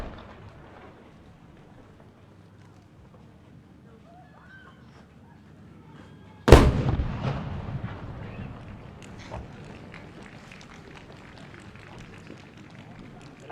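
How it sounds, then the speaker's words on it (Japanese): At the Sanriku fireworks festival, a sponsor's celebration firework bursts with one sudden loud boom after a quiet stretch, followed by a long, rumbling, crackling fade. "設立40周年のお祝いの花火を打ち上げさせていただきます。"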